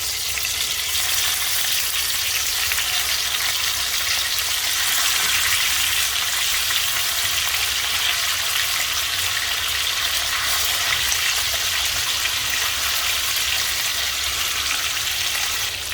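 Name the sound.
fish frying in hot oil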